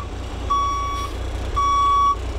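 A Class B truck backs up during CDL skills training, its reversing alarm sounding two long, steady beeps over a low idling engine rumble.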